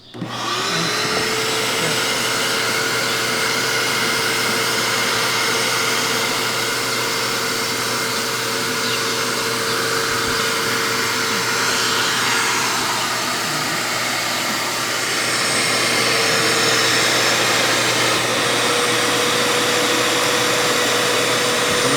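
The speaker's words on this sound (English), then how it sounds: "The vacuum sucks the seeds down onto the little points there, and then this is matched to the trays that we use" A vacuum seeder on a farm runs with a continuous whooshing suction drone, pulling seeds onto small points matched to planting trays. The sound is loud, close and steady, holds a faint whine, and swells slightly near the end with no talking.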